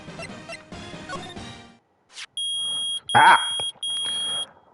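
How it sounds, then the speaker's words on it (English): A metal detector in the video game Phoenix Wright: Ace Attorney gives loud, steady electronic tones in three long beeps, with a short cry of pain and other game sounds before them. "It's beeping. The metal detector's found something."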